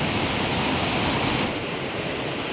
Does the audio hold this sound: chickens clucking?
no